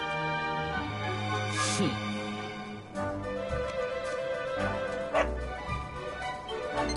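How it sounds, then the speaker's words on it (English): In the video game Dragon Quest XI S on PS4, a dog barks and yips repeatedly in short bursts, with a whimpering tone, over steady game music. "No, no, not a dog! Anything but that!"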